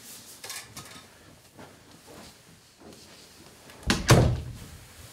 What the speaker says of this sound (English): I'm going to go ahead and close her door and her curtain.